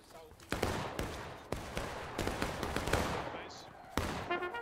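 A drill company fires rifle volleys on command during a reenactment training day, several sharp loud reports spread unevenly through the clip rather than in one crisp volley, with voices heard around them.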